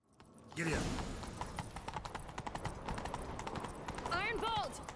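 Horse hooves clip-clopping in a fast, steady galloping rhythm in The Witcher 3 video game, loud and close throughout, with a horse whinny near the end and voices over the hoofbeats.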